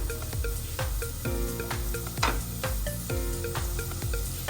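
Onions sauté with salt in a clay pot for a Sri Lankan fish curry, a soft continuous sizzle with repeated stirring scrapes under steady tonal background sound.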